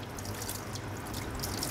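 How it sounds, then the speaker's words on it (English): Water runs from a tap in a steady, soft, continuous hiss with faint drips and splashes while a plaster mold is smoothed with damp cotton, quiet and unbroken, with no talking. "we smooth it up again under running water with damp cotton"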